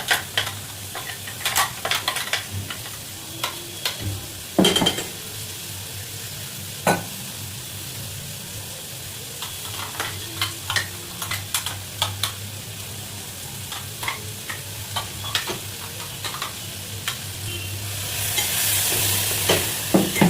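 Ground tomato paste frying in a pan for a tomato kurma, a constant low sizzle under repeated sharp scrapes and knocks of a spoon stirring against the metal, close and fairly loud, with a brief hissing surge near the end.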